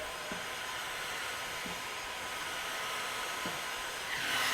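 A heat gun blows a steady broadband hiss as it warms printed car wrap vinyl, holding a continuous even roar throughout with a slight rise in level near the end.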